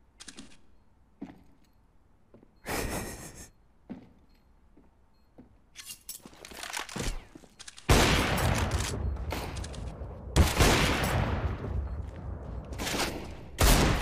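Bursts of rapid gunfire from a game, starting sparse and building into a loud, sustained exchange of shots in the second half.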